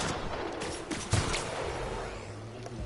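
Gunfire in The Outer Worlds comes as a rough cluster of shots and crackling impacts early on, with a heavier thump near the middle, then fades into a low rumbling background; no one speaks.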